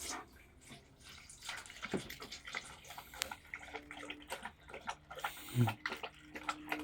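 Water poured steadily into a container outdoors, a continuous splashing, gurgling stream lasting several seconds at close range, with a few small knocks and clatters along the way.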